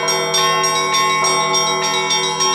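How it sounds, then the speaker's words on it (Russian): Church bells in Sarov, Russia ring loudly and continuously, overlapping strikes blending into a rich, resonant peal with no voices. "показали слушателям всю глубину и красоту колокольного звона"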